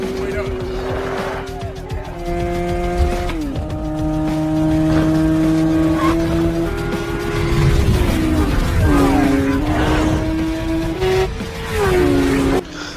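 Motorcycles in a street race scene from the 2003 film Biker Boyz: loud, sustained engine whines rise and fall in pitch as the bikes rev and shift, over a dense rumbling background throughout.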